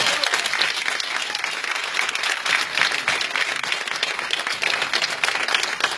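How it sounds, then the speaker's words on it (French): An audience at an election campaign launch claps steadily, a dense, even wash of applause that lasts throughout with no break. "on va quand même lui donner un petit main d'applaudissement"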